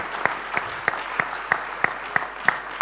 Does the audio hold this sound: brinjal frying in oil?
no